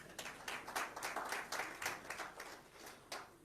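A round of applause at a climate finance lunch session in Nigeria: steady, faint, distant clapping from an audience, continuing for a few seconds with no talking over it.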